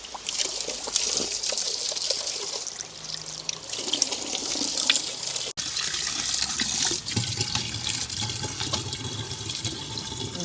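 Calcium-rich spring water pours steadily into a container at Glastonbury, a continuous close splashing trickle that shifts slightly in tone partway through.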